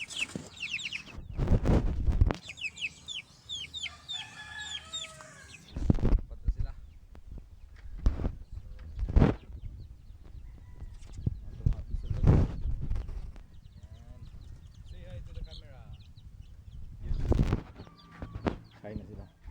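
Young chickens cluck and peep while feeding close by, with soft calls scattered through the scene. Several loud thumps and knocks break in at intervals, and a voice is heard speaking.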